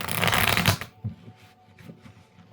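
A deck of tarot cards is riffled in one quick, close shuffle, followed by a few soft taps as the cards settle.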